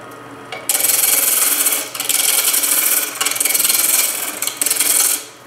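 A skew chisel cuts a banksia pod spinning on a wood lathe, giving a loud, steady raspy hiss in several long passes separated by brief pauses, with no voices.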